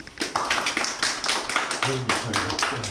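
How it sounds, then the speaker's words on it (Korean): A small group claps in welcome for a newcomer at a workplace, quick uneven bursts of hand claps close by, with a voice speaking briefly over the end. "다 같이 환영의 박수"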